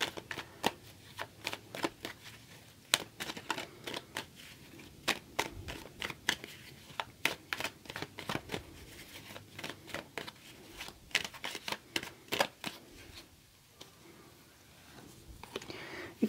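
Tarot cards are shuffled up close, giving quiet, rapid riffling flutters and soft snaps in repeated bursts with short pauses between them.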